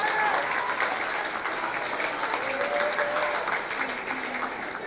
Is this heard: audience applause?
yes